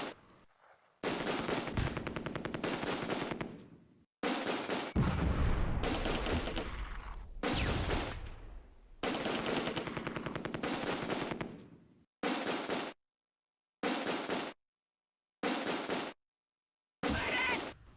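An MG42 machine gun fires in the World War II strategy game Close Combat, loud sustained bursts of rapid automatic fire with short pauses, ending in a series of brief choppy bursts separated by silence.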